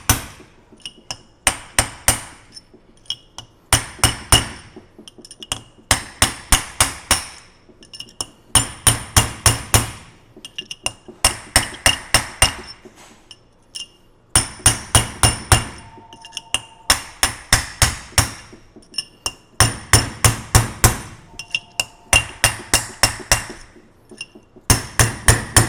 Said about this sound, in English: Now we can just put a punch down the bolt holes and kind of work our way around.